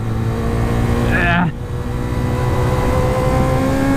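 A Suzuki Bandit 250 motorcycle engine runs flat out with the throttle pinned, giving a loud, sustained high-revving drone that briefly shifts pitch and dips before holding steady again, with a rider's voice faintly over it.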